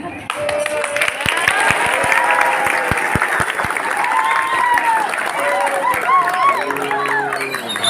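Sustained applause from a school audience at a Maulid Nabi celebration at MTs Al-Ihsan Buluh Rampai, loud and steady throughout with crowd noise and some voices mixed in.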